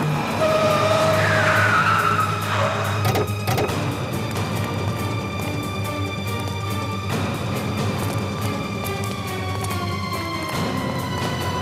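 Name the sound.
car skidding to a stop with a punctured tyre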